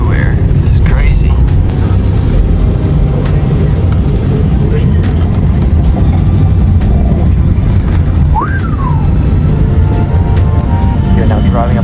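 A car drives through Monaco's tunnels with a loud, steady road and engine rumble, while people talk inside the cabin throughout.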